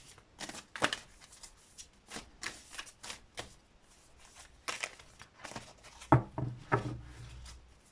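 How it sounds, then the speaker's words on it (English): A deck of affirmation cards being shuffled by hand, a run of crisp riffling bursts and card slaps close up in a quiet room, with a few sharper taps near the end and no talking. "Just breathe as I'm shuffling your affirmation cards."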